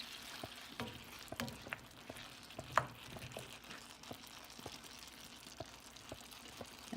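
Chicken stir fry with vegetables and sauce cooks in a covered pan, giving a soft, steady sizzle and bubbling with scattered small pops and clicks, fairly quiet and close, with no talking.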